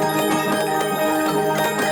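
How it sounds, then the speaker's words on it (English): Layered synthesized bells ring through a color bass electronic music track, a dense, bright stack of sustained chiming tones with soft rhythmic strikes pulsing through, loud and steady without any voice. "I think this right here is every bell I have."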